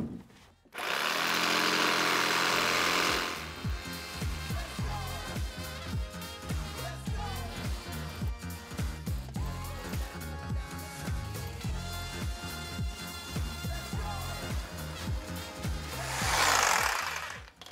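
A power tool cuts through polycarbonate sheet, starting with a loud steady whir, then settling into a rapid juddering buzz that pulses continuously up close before rising to a bright surge near the end.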